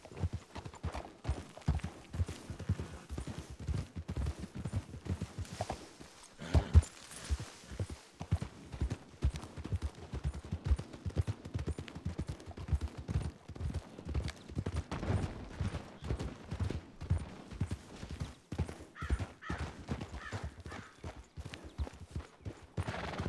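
Hooves of Tawa, a horse in a western setting, clip-clop in a steady walking rhythm for over twenty seconds, fairly close and unaccompanied by talk.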